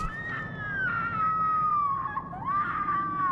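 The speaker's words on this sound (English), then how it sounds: "Hey, that awful woman screaming." A woman screams in The Sinking City, a long, sustained, wavering high cry that stays loud and close for several seconds with a shaky break near the end.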